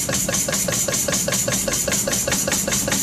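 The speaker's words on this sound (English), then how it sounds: "it's a Legacy Performance Series 2 oil pump" A Legacy Performance Series 2 oil pump runs under test, making a steady, rapid mechanical knock that repeats about every sixth of a second over a constant hum, close and loud.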